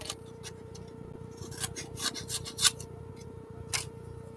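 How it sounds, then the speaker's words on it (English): Scissors cutting thick paper: a run of crisp, rasping snips and rubs of uneven rhythm, a few louder cuts standing out, close and fairly quiet, with no voices. "I always kind of enjoyed the sound of cutting paper, though. Like when it's thick paper like this."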